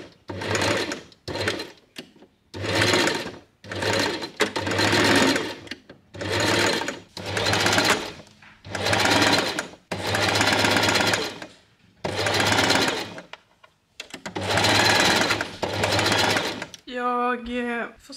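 Sewing machine stitching straight back and forth over a band on a blouse, in repeated loud bursts of rapid whirring separated by short pauses, with a brief voice at the very end.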